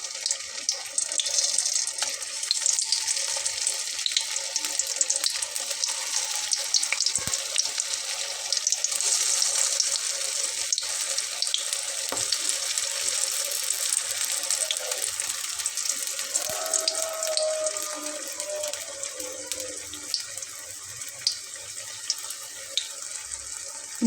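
Vegetable pakoras frying in hot oil, giving a steady, fairly loud hiss and crackle that runs without pause, with a few faint knocks and a brief tonal whine partway through; no voices.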